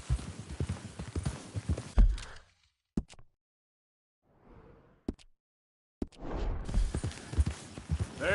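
Horse hooves clip-clop at a walk in Red Dead Redemption 2, a steady run of near hoof falls that stops for a few seconds of quiet broken by isolated knocks, then resumes.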